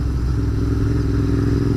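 A Royal Enfield Interceptor 650 parallel-twin fitted with a DNA air filter kit idles loudly up close, a steady throbbing, burbling engine note with no voices.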